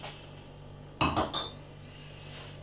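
A glass of imperial coffee vanilla porter is set down on a table with one close, solid knock and a short clink, then quiet, with no talk.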